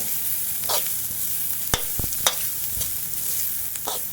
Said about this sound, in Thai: ผัดให้มันหอมครับ เ อามาเกี่ยวมันหอมครับ